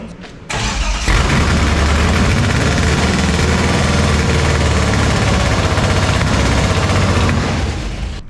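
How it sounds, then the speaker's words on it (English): A car engine fires up for the first time with no exhaust fitted, bursting into a loud, raw, unmuffled roar after a brief quieter moment and running rough and steady close up until the end. "So we got the car running. It is pretty crazy to hear it for the first time."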